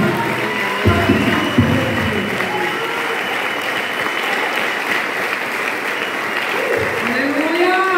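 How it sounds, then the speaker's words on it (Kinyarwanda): A church congregation gives a sustained round of applause, a dense, even roar of many hands clapping, with a voice heard briefly over it at the start and again near the end. "Uma salva de palmas"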